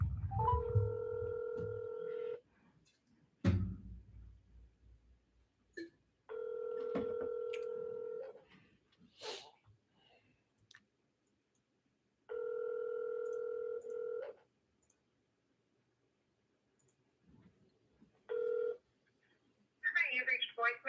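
Phone call ringback: repeated electronic ringing tones come in evenly spaced bursts separated by quiet gaps, with a short dialing tone and brief handling sounds before a voicemail greeting begins near the end.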